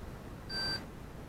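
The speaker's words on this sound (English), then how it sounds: "Let me do a quick diode test." A Fluke 37 multimeter gives a single short, clean electronic beep during a diode test, a steady tone lasting about a third of a second over quiet room background.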